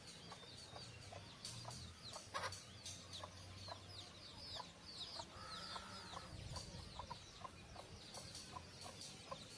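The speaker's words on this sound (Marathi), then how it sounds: "पक्ष्यांचा चुचुवाट आणि कोंबड्यांचा पण आवाज बघा छोट्या छोट्या पिल्ल्यांचा किती छान येतोय" Hens cluck and chicks peep in a lively farmyard chorus, with frequent short calls overlapping against a faint outdoor background.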